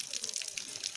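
Tap water rinsing raw blood for a village-style blood stir-fry, a steady close splashing and trickling hiss that runs without a break.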